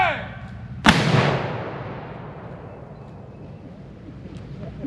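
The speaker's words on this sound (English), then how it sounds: "that's just one cannon" A single Civil War cannon fires at Shiloh National Military Park, one sharp loud boom followed by a long rolling echo that fades over several seconds outdoors.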